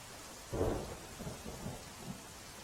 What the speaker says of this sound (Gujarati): ગ્રામ્ય વિસ્તારમાં પણ વહેલી સવારથી ભારે વરસાદ પડી રહ્યો છે